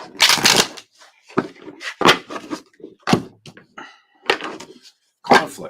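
Several sharp bursts of tarot cards being shuffled, riffling in quick snaps separated by pauses, close by, with quiet talk between them.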